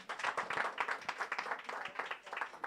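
An audience at a connectivity campaign launch claps for the Minister of ICT in a short, moderately dense burst of hand claps that rises and falls quickly, recorded at a modest distance.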